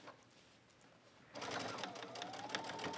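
A sewing machine stitches around the edge of a shirt hem, starting after a quiet moment and then running as a steady, close, continuous whir of rapid needle strokes.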